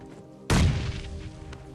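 A grenade thrown and exploding in PUBG Mobile Lite: one sudden loud blast with a booming low rumble that slowly decays over about a second, leaving a steady game background hum.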